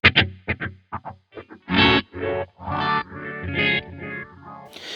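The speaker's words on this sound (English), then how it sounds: "the phase 90 giving it that kind of like rising and falling feel as a phase pedal does" Heavily processed electric guitar through whammy and Phase 90 phaser pedals with delay, first short plucked bursts then longer swelling tones with a sweeping, warbling, rising-and-falling modulation.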